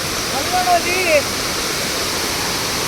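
Waterfall water gushing forcefully at Sringeri, a steady broadband roar throughout with a few faint bird-like chirps over it.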